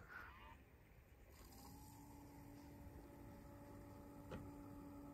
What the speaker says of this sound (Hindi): Cooler is working, the pump is good.